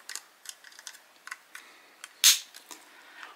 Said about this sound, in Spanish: Va a ser un pequeño clic.